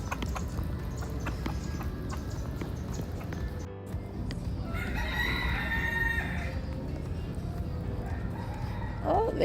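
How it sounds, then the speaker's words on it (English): Rooster crowing outdoors in Key West, heard as a drawn-out crow in the middle of the stretch, moderately distant beneath steady street and crowd ambience. "I'm following the rooster sound."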